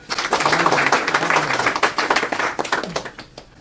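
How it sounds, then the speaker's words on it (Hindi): A crowd claps in a dense burst of applause, steady at first and then thinning out, with a voice faintly underneath. "एक बार जोर से आप लोग तालियां बजा दें"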